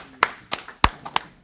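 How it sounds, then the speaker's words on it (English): A few scattered hand claps from a small classroom group after a lecture on nested while loops, four or five sharp separate claps rather than sustained applause, close and fairly quiet. "Round of applause"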